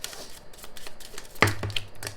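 Tarot cards being shuffled by hand: a quick series of soft riffling flicks and taps, moderately close, with a sharper knock partway through and no talking.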